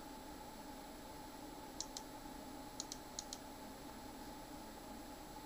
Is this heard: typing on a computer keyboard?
yes